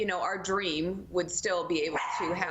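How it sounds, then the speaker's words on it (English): A dog barks in a few sharp bursts close by, partly over a person speaking. "oh, sorry, that's my dog."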